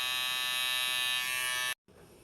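VGR V-036 hair clippers run with a steady high electric buzz, close and constant, then cut off abruptly near the end with a brief quieter hum afterward.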